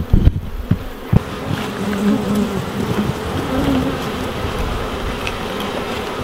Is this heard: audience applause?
no